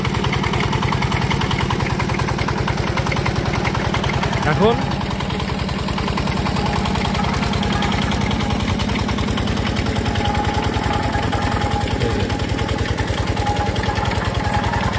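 A biogas plant machine with a gear system runs with a steady mechanical drone and rapid rhythmic clatter throughout, while a person talks close by.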